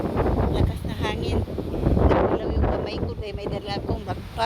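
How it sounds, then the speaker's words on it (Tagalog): Strong wind buffets the microphone in a small neighbourhood park, a constant rough roar that gusts louder midway, while someone talks over it. "Lakas na hangin"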